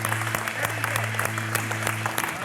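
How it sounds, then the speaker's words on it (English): Crowd applause greets the unveiling of a restored 1971 Plymouth Cuda, a dense wash of clapping with a steady low hum underneath and a few voices mixed in. "we got a lot of applause."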